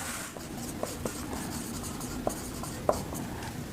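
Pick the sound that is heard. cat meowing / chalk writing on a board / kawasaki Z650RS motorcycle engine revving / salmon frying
chalk writing on a board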